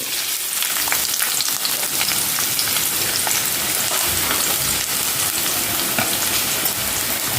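Sliced onions fry loudly in hot oil with cinnamon pieces and cardamom, a dense, steady sizzle that stays close and continuous throughout.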